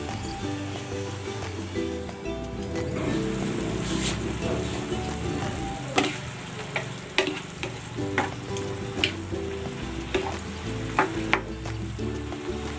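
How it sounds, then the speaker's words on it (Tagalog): A creamy chicken dish with apple tidbits cooks in a covered pan, giving a steady low sizzle and bubbling simmer with scattered soft pops and clicks throughout. "I-simmer natin ito for 5 minutes"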